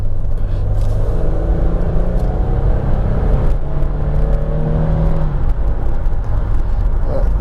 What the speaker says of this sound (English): Just going to give it a brake test down here